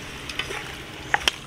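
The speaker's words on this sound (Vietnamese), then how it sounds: "Mình cho vô mình xào xăng cái nha." Marinated chicken pieces stir-fried in a pot with shallots for a chili chicken hotpot, giving a few soft scraping stirs and short sizzling bursts, with two sharper clinks near the end.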